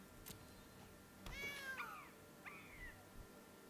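A cat monkey creature summoned in the card game Magic: The Gathering, heard as a short, clear synthesized meow-like cry with a second brief call after it, over a quiet background.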